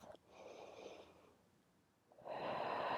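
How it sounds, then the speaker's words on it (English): Deep breathing during a full-body Pilates stretch: a soft inhale, a quiet pause, then a stronger, airy exhale, close and clear with no talking. "Take one more breath"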